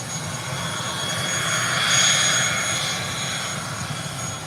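British Airways Boeing 777 jet engines at the gate: a steady, moderately loud jet whine and rumble that swells slightly midway and eases back, with no voices.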